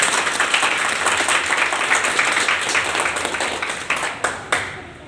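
An audience at a business plan meeting breaks into loud, dense clapping that carries on and thins out to a few scattered claps at the end.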